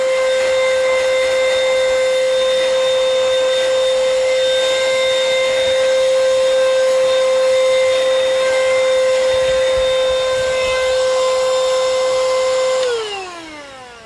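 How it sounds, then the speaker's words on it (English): A vacuum cleaner running off a Hulkman jump starter whines steadily at a high motor pitch, loud and constant, then winds down as it is switched off near the end. "I was running the vacuum with the Hulkman here"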